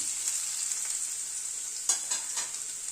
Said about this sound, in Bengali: আলুটাকে আগে একটু ভেজে নিচ্ছি।